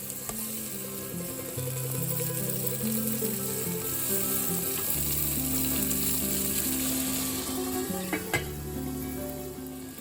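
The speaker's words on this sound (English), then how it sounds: "We will cook the onions for a minute or two and then add the roughly chopped tomato, which we will cook for another minute or two as well." Onions and roughly chopped tomato sizzle steadily in a hot pan for dal with spinach, a continuous close frying hiss under soft background music.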